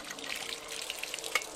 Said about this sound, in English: once you finish, give it a good clean up with fresh water.